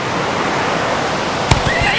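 A horse whinnies briefly near the end, a short sharp neigh rising over a steady wash of outdoor noise.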